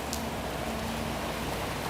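Rain falls steadily over Old San Juan, Puerto Rico, a constant broadband patter and hiss with a faint low hum underneath, nearby and unbroken.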